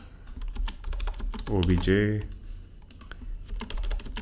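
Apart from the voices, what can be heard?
typing JavaScript code on a computer keyboard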